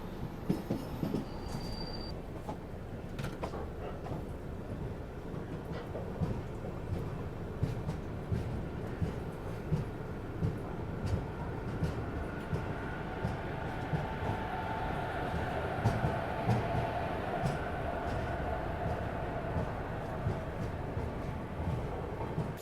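Prayagraj Sangam Express, a passenger train on the route from Prayag Junction to the Prayagraj Sangam terminus, rumbles steadily with dense low wheel noise, light rhythmic clatter and a brief high squeal near the start, heard close from on board.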